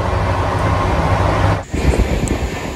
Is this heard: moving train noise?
yes